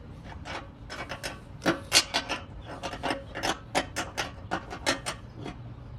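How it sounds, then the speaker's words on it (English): A wrench tightens the fuel petcock on a Tao Motor Jeep 110 go-kart, giving a close series of short metallic clicks and ratcheting scrapes in an irregular rhythm, with no talk. "you want to just tighten up your petcock"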